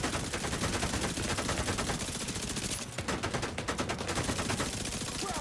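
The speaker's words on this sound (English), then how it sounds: "Now someone's shooting with a gun." Rapid bursts of gunfire in a video game, dense and continuous like automatic weapons firing, loud and steady throughout with a brief thinner patch near the middle.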